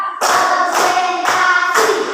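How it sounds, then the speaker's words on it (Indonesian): Four evenly spaced claps in an elementary school classroom, in a steady rhythm, each ringing briefly, close and loud. "Tepuk satu. Tepuk dua. Tepuk tiga. Tepuk empat."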